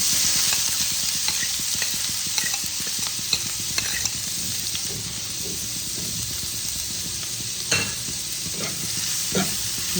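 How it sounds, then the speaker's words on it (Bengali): Grated onion, garlic, ginger and green chili sizzle in hot oil in a pan for palak paneer, a steady hiss broken by stirring scrapes and a few louder spatters, close up with no talking. "আমি যে পেঁয়াজ, রসুন, আদা, কাঁচা লঙ্কা যে গ্রেট করে নিয়েছি সেটা আমি দিয়ে দিচ্ছি।"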